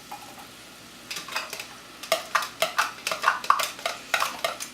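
Red onions cook in a pan with soft sizzling and repeated scraping stirs, a quick irregular series of close utensil strokes against the pan.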